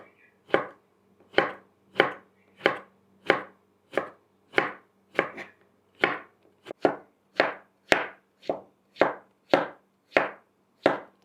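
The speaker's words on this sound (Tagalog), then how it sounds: "So next is cut into smaller pieces." A knife chops squash into smaller pieces on a board: about seventeen crisp, evenly spaced cuts, close and clear, with quiet gaps between strokes and no talking.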